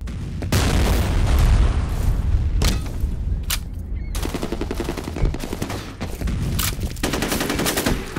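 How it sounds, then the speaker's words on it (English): Counter-Strike capture-the-flag match on a Halloween map: a heavy booming blast mixed with rapid automatic gunfire, loud and dense, several sharp bursts following through the rest of the moment. "Fire in the hole!"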